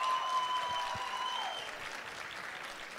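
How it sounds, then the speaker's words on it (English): An awards ceremony audience claps in a broad, steady wash of applause that slowly fades over a few seconds, with a faint sustained tone sitting above it at first. "Can we give them another round of applause?"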